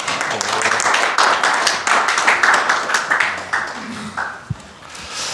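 Applause from attendees at a breakfast meeting on AI in the energy sector, a moderate patter of many hands clapping fairly close and steady, thinning toward the end with a couple of isolated knocks.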